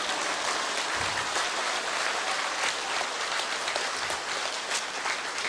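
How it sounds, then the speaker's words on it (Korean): Even, continuous applause from an audience at a company presentation, fairly faint and diffuse as it fills the room without individual claps standing out. "박수 안 쳐요?"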